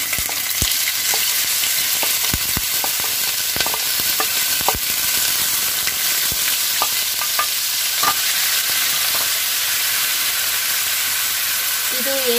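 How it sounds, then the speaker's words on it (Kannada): Ground onion paste for kodubale frying in hot oil over a low flame, a steady close sizzle and hiss with occasional stirring scrapes and clinks of a spoon against the pan. "ಈಗ ಎಣ್ಣೆ ಕಾದ್ಮೇಲೆ ಸಣ್ಣ ಉರಿ ಮಾಡಿಕೊಂಡು ಈ ಪೇಸ್ಟನ್ನು ಇದರೊಳಗಡೆ ಹಾಕೋಬೇಕು"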